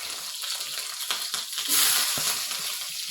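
Shallots and green chillies sizzling in hot oil with popped mustard seeds, a steady close crackle with a brief louder surge of frying midway, no voices.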